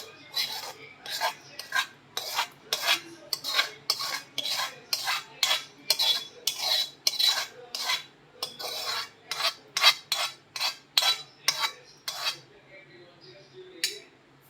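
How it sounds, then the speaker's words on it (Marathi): A utensil scrapes a ripe mango pulp mixture across an oiled plate in quick, regular rasping strokes, close and steady, with brief pauses near the end. "तर हे मिश्रण पूर्णपणे आपल्याला प्लेटमध्ये पसरवून घ्यायचं आहे बघा."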